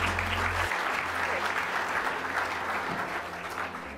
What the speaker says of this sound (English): can you please give a round of applause to Karen and Rachel?